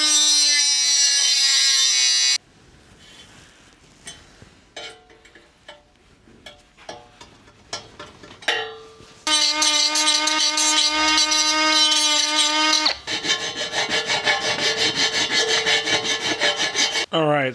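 Power cutting tool slicing notches into a Mustang SN95 cat-back muffler pipe, loud harsh screeching bursts broken by quieter stretches of tapping and scraping metal, all close up with no talking.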